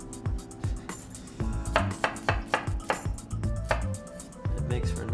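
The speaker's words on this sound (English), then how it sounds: "we're just going to take a little garlic, a few cloves here, just slice them thin" A knife slicing thin through a few garlic cloves on a cutting board, giving a run of short, close, crisp knocks and taps with faint kitchen clatter and no voice.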